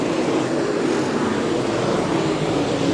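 Late model race cars roar together at Carina Speedway under green-flag racing, a dense, steady wall of engine noise at constant loudness with no gaps or talk.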